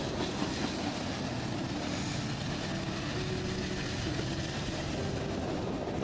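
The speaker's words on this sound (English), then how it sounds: "they had a CSX Safety Train with a SC40-2 leader on this guy" A CSX safety train led by an SC40-2 locomotive rolls past in New Jersey. Its rumble and the clatter of the railcars stay loud and steady throughout, with no horn.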